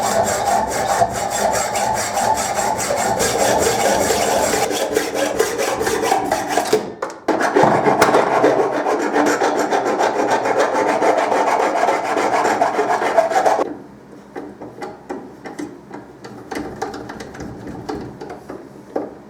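Threaded rods for a bike being cut down and cleaned up in a garage: rapid rhythmic rasping strokes, close and loud, pausing briefly near seven seconds, then lighter intermittent scraping for the last few seconds.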